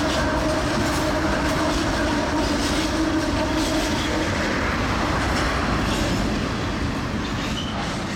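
A CSX freight stack train rolls past on a bridge with a loud, steady roar of wheels and rhythmic clickety-clack from the cars, faint squeals riding over the rumble, close and continuous with no talk.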